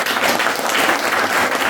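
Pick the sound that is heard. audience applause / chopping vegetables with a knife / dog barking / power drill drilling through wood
audience applause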